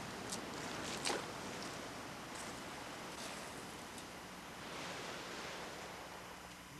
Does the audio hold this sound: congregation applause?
no